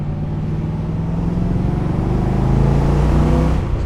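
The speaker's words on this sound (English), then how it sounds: "The V8, the 8 cylinders make a specific noise that you can't get from a 6-cylinder or a 4-cylinder or even a 12-cylinder" A V8 engine in an AC Cobra sports car rumbles with a steady, deep, loud idle that swells slightly toward the end, with no voices over it.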